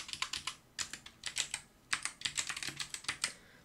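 A sheet name is typed on a computer keyboard in quick bursts of crisp key clicks, with short pauses between groups, close and fairly quiet.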